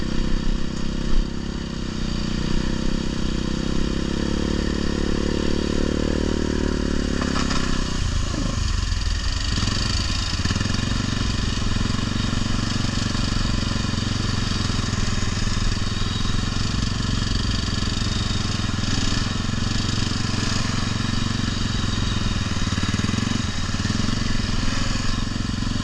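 A 500 ATV fitted with huge tires, engine droning and revving loudly and continuously with a pitch dip mid-way, tires slinging and clattering, close up.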